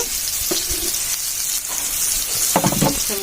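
Fish fries in a pan with a loud, steady sizzle, and the scrape and clatter of stirring come through close up, growing busier toward the end.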